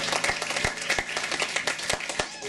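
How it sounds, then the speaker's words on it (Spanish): A church congregation claps for the Lord during a Spanish-language service led by Pastor Hoover Ariza, with steady, fairly loud rhythmic hand claps spread through a hall, faint speech mixed in. "Dale un fuerte aplauso al Señor."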